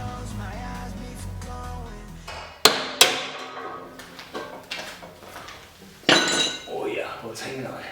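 Metal work on a Subaru WRX STi fender structure, prying apart spot-welded panels: a few sharp metallic bangs and clanks over scraping and rattling, close and loud, with no speech.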